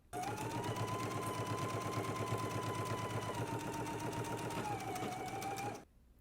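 A sewing machine stitches the center back seam of an under collar in one continuous run of about six seconds, a fast, steady whirring hum close to the microphone that stops abruptly.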